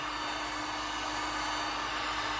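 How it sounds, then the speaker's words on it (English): A heat gun blows hot air in a steady, loud broadband rush with a constant hum, running alone without pause. "So what I'm going to use the heat gun."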